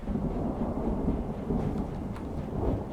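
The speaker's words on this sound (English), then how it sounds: "And now it's raining." Steady rain hiss with low rolling thunder rumbling throughout a Medieval II: Total War battle in The Elder Scrolls Total War mod, a continuous, fairly loud wash of weather with no voices.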